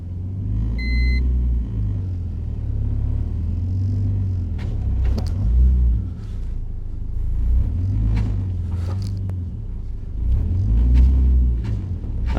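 A BMW E46 Compact engine in a driving video game rumbles low and loud, its pitch swelling and easing in repeated waves, with a few sharp clicks and thumps on top.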